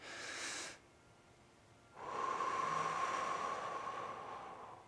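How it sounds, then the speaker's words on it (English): A person takes a deep breath during a breathing exercise: a brief exhale comes first, then after a pause a long, steady, close inhale that fades slightly near the end. "we're going to take a good deep breath in"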